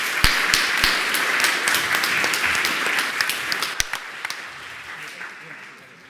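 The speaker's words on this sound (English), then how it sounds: "Please join me with applause to the panel ourselves" An audience at a science advice conference claps for a panel, steady broadband applause with a few sharp, close individual claps standing out, tapering off near the end over faint murmuring.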